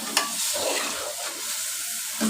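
Grated carrot halwa stir-fried in ghee in a pan, a steady sizzling hiss with repeated scraping and stirring strokes of a spoon, close and continuous throughout.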